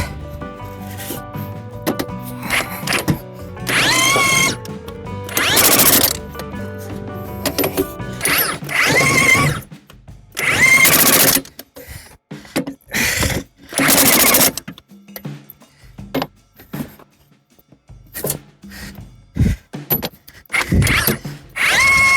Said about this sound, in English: even an air gun will be pretty heavy. You know, just pop your batteries in and go